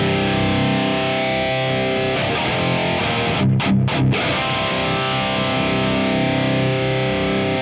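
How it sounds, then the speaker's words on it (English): High-end distortion from the grind effect in the Genome guitar app, a dense, saturated electric guitar tone sustained throughout with brief choppy gaps near the middle, loud and unaccompanied by talk. "And grind gives you high-end distortion."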